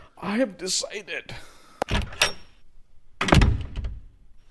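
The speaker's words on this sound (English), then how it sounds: "Wait, I will open the door." A house door is opened for a visitor: a few solid thunks and a louder clattering rattle of the door, following and mixed with voices talking nearby.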